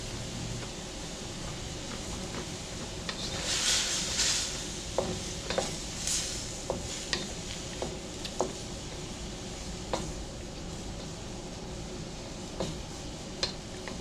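Broccoli sizzling and frying in a pan, a soft continuous hiss with occasional sharp clicks and scrapes of a utensil stirring against the metal.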